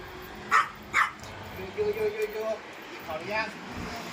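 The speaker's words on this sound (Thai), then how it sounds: "มีแต่หมาเห่า" A dog barks at a rural Thai home, giving two sharp barks followed by a few softer yips and whimpering sounds, mid-distance, with faint background ambience.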